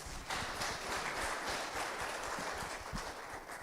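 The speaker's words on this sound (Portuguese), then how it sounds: "Pode aplaudir." A church congregation applauding, a dense wash of many hands clapping, steady and fairly faint, throughout.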